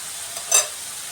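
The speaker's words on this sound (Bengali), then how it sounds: "পেঁয়াজ আদা রসুন টমেটো কষিয়ে নিতে হবে একটু কষানো হয়ে যাক ভালো করে" Onion, ginger, garlic and tomato sautéing in a pan: a brief steady sizzle with a single quick stirring swish in the middle.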